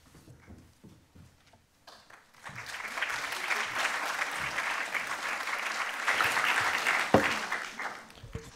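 Conference audience bursts into applause, building from a few scattered claps into sustained, fairly loud clapping that swells and then starts to fade near the end.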